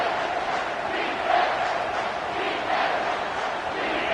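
Stadium crowd at a college football game, BYU against Mizzou, roaring steadily through a big third-down play, a dense sustained wall of cheering with brief swells, no talk heard.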